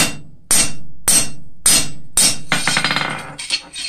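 Blacksmith's hammer peen striking the edge of a metal cross workpiece on an anvil to forge scalloping: five loud, evenly spaced ringing blows, then a quicker run of lighter taps, close and without talk.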